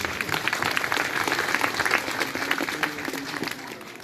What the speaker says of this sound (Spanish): Podemos darle fuerte palmas a Jesús